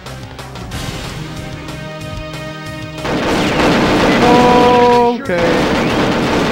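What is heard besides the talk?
gunfire in Perfect Dark video game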